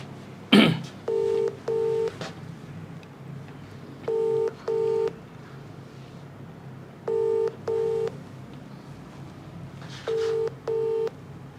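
A phone ringback tone repeats in evenly spaced double bursts, four pairs in all, with a brief cough-like knock near the start, before the call is forwarded to voicemail.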